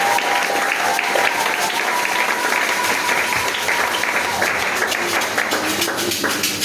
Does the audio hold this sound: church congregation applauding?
yes